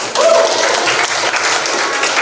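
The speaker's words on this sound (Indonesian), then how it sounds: "kita kasih tepuk tangan untuk" A classroom group applauds during a lesson, a dense, loud wash of clapping that starts abruptly and holds steady for a couple of seconds.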